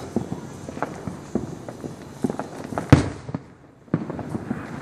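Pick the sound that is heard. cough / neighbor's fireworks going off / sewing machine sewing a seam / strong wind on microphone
neighbor's fireworks going off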